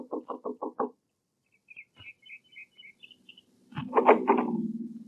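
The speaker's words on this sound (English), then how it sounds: "knocked at the door of a small house" Five quick knocks on the door of a small house, close and evenly spaced, followed by faint footsteps and then a voice answering.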